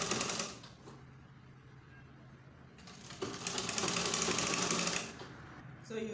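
Sewing machine hemming a gathered skirt with a very narrow hem, running in a steady rapid stitching burst at close range, pausing briefly, then a second longer run.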